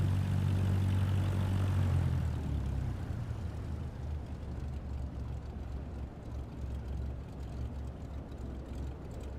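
Cessna propeller plane in Microsoft Flight Simulator 2024 powering up for takeoff, a loud steady engine drone with a low hum that swells into a rougher, broadband roar and holds there.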